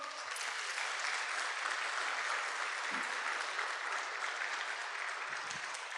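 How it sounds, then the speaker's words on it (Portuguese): A church congregation applauds steadily, with dense, continuous clapping from many hands filling the room at an even level throughout. "dê um aplauso ao Senhor"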